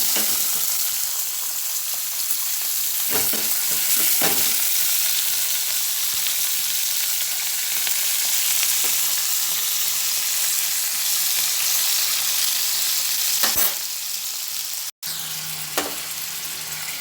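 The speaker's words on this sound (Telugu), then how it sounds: "కొద్దిగా నూనె పోసుకొని దాంట్లో టమాటా ముక్కలు వేసుకొని వేయించుకోవాలి" Tomato pieces sizzle and crackle steadily in hot oil, with occasional stirring scrapes and clinks over the constant hiss.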